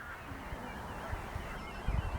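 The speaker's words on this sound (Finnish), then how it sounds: "Vesilintuja on runsaasti ja se kuuluu." A large gathering of waterfowl in early Finnish spring, with geese honking among many other water birds, forms a dense continuous chorus of calls, fairly distant and steady, with slightly louder honks near the end.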